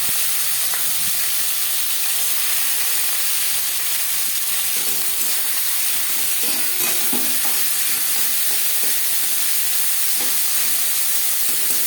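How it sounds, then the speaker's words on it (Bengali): Bottle gourd peel dropped into hot oil with whole cumin and dry red chili, giving a loud, steady sizzling hiss with occasional faint stirring clicks, close up and without speech. "শুকনো লঙ্কা গোটা জিরে ভেজে নেওয়ার পর দিয়ে দেবো লাউর খোসা"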